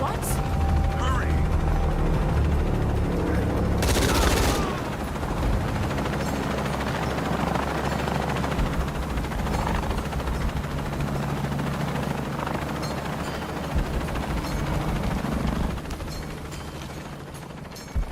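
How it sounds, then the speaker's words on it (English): A helicopter in the video game Shadow of the Tomb Raider roars continuously, with dense rotor and engine noise filling the scene and a loud whooshing burst early on, as voices talk over it. "Lara, I'm in a chopper. I've got a pilot."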